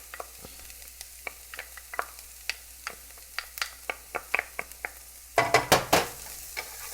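Garlic frying in a pan with softened vegetables for ground turkey nachos, a quiet hiss punctuated by a series of light taps and clicks from a utensil, then a louder burst of sizzling and scraping near the end.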